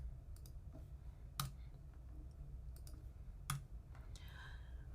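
Computer mouse clicks during a Figma design session, several sharp brief clicks spaced across a quiet background, with a couple of stronger paired clicks standing out.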